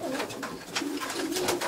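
Pigeons coo softly nearby in a few low, rolling calls, with a rustling, busy background.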